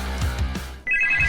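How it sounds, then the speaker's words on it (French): A telephone starts ringing in a toy store, a sudden bright electronic ring that cuts in partway through after some low rumbling background noise and holds steady and fairly loud. "Je vais appeler l'autre téléphone."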